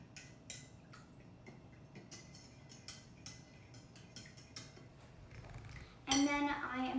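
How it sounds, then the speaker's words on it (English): Spoon stirring honey into a chia pudding mixture in a bowl, giving soft scattered clinks and scraping at low volume, ending in a louder clattering burst. "just mix that around so that there's no honey clumps"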